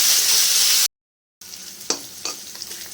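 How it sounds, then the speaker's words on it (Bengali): Potato and bitter gourd pieces frying in hot oil sizzle loudly for a moment, then after a brief break a spatula stirs them with a few soft clinks over a quieter sizzle. "এইভাবে আলু উচ্ছেটা ভেজে নেবো"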